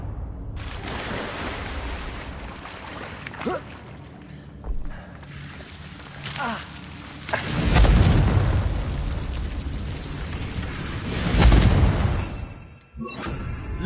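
Confringo fire spell blasts in Hogwarts Legacy, two heavy rumbling booms rising out of a continuous low in-game ambience, each swelling and fading over a second or two, with no talk.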